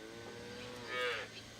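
A single cow on a farm lets out one drawn-out moo, fairly close and moderately loud over a faint background.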